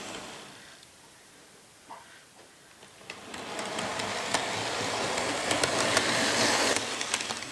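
An Athearn Genesis 2.0 EMD SD70M-2 HO model diesel locomotive runs along its track with a steady whirring rumble and light rhythmic clicking, growing louder as it approaches.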